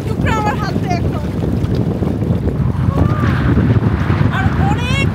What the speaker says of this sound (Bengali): আর অনেক বাতাস